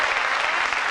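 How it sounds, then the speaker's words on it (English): Studio audience at the 1982 Bullseye game show in Peckham applauding, a dense, steady wash of clapping at full volume throughout. "Give them a nice warm round of applause."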